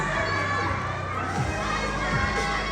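A lively crowd cheering and shouting together, steady and fairly loud throughout, with a few higher voices rising above the general din.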